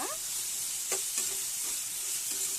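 Ridge gourd and tamarind cook in a hot pan, giving a soft, constant sizzle broken by a few quick scraping stirs of a spoon. There is no talking.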